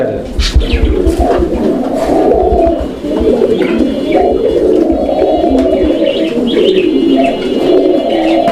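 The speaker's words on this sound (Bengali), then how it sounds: "নরের ডাক দেখছেন একদম মাসাল্লাহ অসাধারণ" A red male Magpie pigeon coos continuously in a loft, a low, throaty rolling call repeated close and loud, with faint chirps from other birds behind it.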